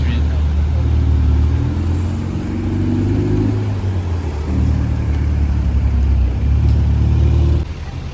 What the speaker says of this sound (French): Audi R8 Spider,